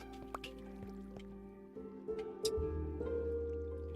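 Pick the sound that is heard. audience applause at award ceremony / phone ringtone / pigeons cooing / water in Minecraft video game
water in Minecraft video game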